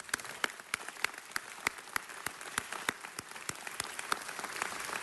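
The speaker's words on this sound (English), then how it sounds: "Let's give our commissioners a round of applause" Sparse, light applause from a small audience at a Los Angeles City Council presentation honoring public works commissioners, individual claps ticking out steadily over a faint room background, fairly quiet and continuous for several seconds.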